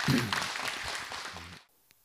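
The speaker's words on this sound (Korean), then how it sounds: "박수 많이 주세요." Audience applause at a Buddhist monk's Q&A dharma talk, a dense broadband wash of clapping mixed with voices that cuts off abruptly, leaving near silence with one faint tap.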